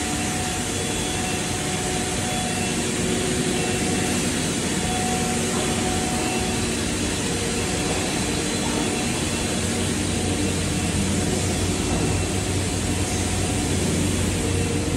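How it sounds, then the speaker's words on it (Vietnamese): A loud, steady rush of cooling water sprayers on a 1000 mm HDPE plastic pipe production line blends with constant industrial machine hum, unbroken from start to finish with no voices. "Hệ thống tình huống chân không, đây là dàn phun nước làm mát."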